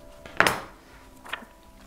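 Blade cutting through the sewing thread of a paperback book's binding in a bookbinding workshop, two short dry snips or tugs, the first louder and sharper, the second fainter, with quiet room tone between.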